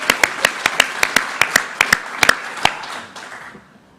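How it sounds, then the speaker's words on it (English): A small audience claps for curbside garbage collectors at an Australia Day awards ceremony, distinct close handclaps in a quick, uneven run that thins and fades out after about three seconds. "give them a round of applause"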